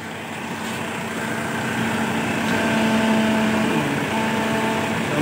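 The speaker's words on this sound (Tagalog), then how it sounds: "ipakita sa inyo ang ugong sa daan nga aux fan niya motor kung unsa ka kusog" A steady, fairly loud mechanical hum from the old, worn auxiliary fan motor of a second-generation Mitsubishi Montero, running continuously with a faint tonal whine on top and no talk.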